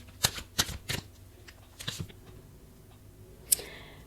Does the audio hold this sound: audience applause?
no